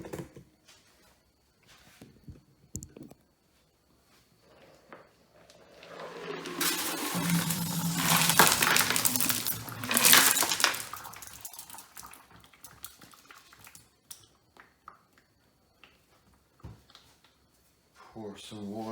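Tumbled rocks and wet slurry pour out of a rock tumbler barrel at stage four, a rattling, splashing clatter of stones that swells for several seconds, with quiet handling noises before and after.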